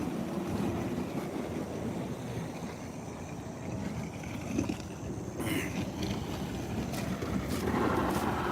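Water from a fire hydrant roars through a hose for pressure washing outdoors at night, a loud, steady rushing rumble with no break across the whole stretch.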